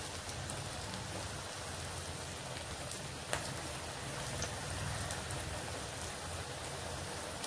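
Chana dal vadas deep fry in hot oil, making a steady close-up crackling hiss that never lets up, with one sharp pop partway through and no voices.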